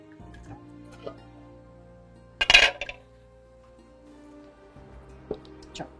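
One sharp metallic clank as a wok is set down on a stove, followed by a few faint clinks in an otherwise quiet room.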